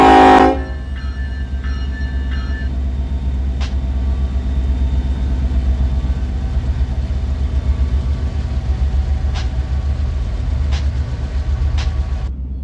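A train rumbles past in a train simulator game, with a steady low rolling drone throughout, a loud burst at the start, and a few faint sharp clanks later on.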